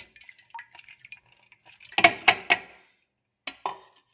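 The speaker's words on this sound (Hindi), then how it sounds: "तो सारी दाल मैंने इसमें डाल दी है" Washed masoor or chana lentils tipped into a pressure cooker already holding water, giving a few soft clattering, splashing bursts in the middle and a couple more near the end, close and fairly quiet with no talking.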